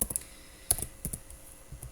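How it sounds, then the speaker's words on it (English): Keys tapped on a computer keyboard while working through a calculation, a few quiet scattered clicks with pauses between them, close by and faint. "I'm doing this on my keyboard"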